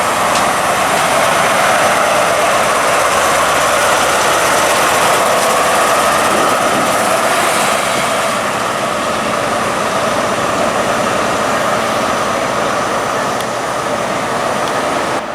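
A Class 43 First Great Western HST, 43149, passes through Reading station as a steady, loud broadband roar of engine and rolling wheels that holds for around fifteen seconds and eases slightly toward the end.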